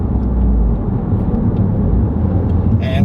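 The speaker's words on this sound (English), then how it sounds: "I hear a nice deep sound out of the back." A 2023-or-later GR Corolla fitted with an APEXi N1 Evolution Extreme catback exhaust gives a steady, deep low rumble throughout, loud and close with no breaks.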